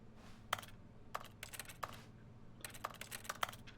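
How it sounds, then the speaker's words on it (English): Soft, quick clicks of keyboard typing in the video game The Stanley Parable, coming in uneven bursts of keystrokes over a low steady background hum. "Sounds like a keyboard."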